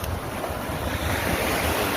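Big sea waves wash and surge around a small fishing boat at sea, a loud continuous rolling rush of surf mixed with wind buffeting the microphone.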